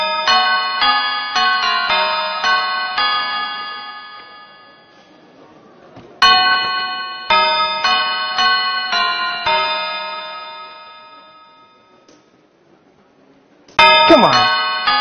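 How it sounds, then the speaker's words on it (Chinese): Chiming melodic doorbell on a Chinese television game show stage, rung in two long bursts of repeated tones that fade slowly, followed by a third bright strike near the end. "请按响门铃"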